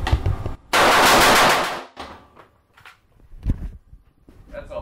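Rifle with a Ballistic Advantage Hanson series .625 barrel fires a rapid sustained burst, loud and close, then falls to scattered clanks and a few shots, with some talk.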